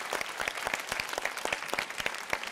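An Italian audience gives a round of applause for mothers, many hands clapping in a brisk, even rhythm for a couple of seconds, moderately close and without speech over it.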